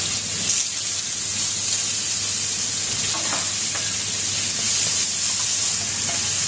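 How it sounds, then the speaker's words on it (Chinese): A teriyaki chicken drumstick fries skin-side in a hot pan, giving a loud, constant sizzle that holds steady for the whole stretch, with faint clinks and no speech. "反过来煎肉，皮要煎硬啊"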